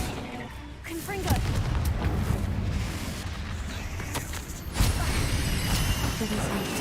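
Confringo explosion spell cast in the game Hogwarts Legacy, heard as a dense, continuous rumbling burst of booming blasts that swells loudly and sustains, with a second surge near the end.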